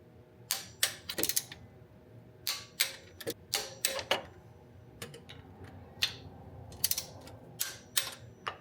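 A torque wrench tightens 12 millimeter bolts on an Acura Legend during rear main seal work, giving sharp, close ratcheting clicks in irregular bursts with short pauses between strokes.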